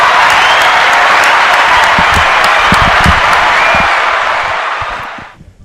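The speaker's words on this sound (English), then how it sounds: "one more round of applause for Pop" An audience at the Echo Lounge applauds loudly with dense, sustained clapping and some cheering, then the sound quickly fades out.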